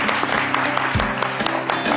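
Audience clapping at a live show with zouglou music playing, the claps forming a busy, loud texture mixed with crowd noise and a sustained musical backdrop.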